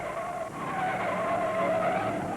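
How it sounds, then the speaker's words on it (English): Race cars skidding and spinning in turn 2 at Ontario Motor Speedway during the 1971 NASCAR Grand National Miller High Life 500: a continuous loud tire squeal over roaring engines. "Pedro Rodriguez in car number 20 slams into the rear end of Benny Parsons and spins him all over turn 2"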